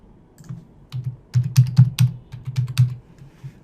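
A password being typed on a computer keyboard while setting a custom user password in cloud account settings: a steady run of close, crisp key clicks with short pauses, no voices.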